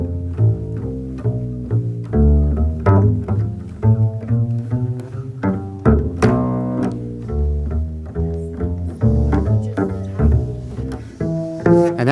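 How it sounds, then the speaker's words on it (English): A walking bass line on bass, a steady stream of plucked notes in even, stepping rhythm played in a blues style, moderately loud with other instruments sounding along, and no talking. "This is called a walking bass line."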